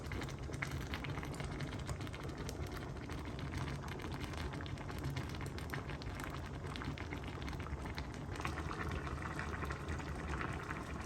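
Mok no mai, a bamboo shoot dish, boils in a pot not yet holding coconut milk or pork belly, with a steady bubbling burble that stays even and close throughout and no voices.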